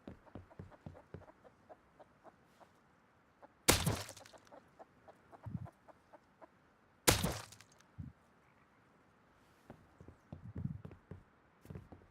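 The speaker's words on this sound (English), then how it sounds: "Silence chickens." Chickens in the video game Rust, near a cave base by a river, cluck in scattered bursts over light tapping, broken by two sharp, loud cracks.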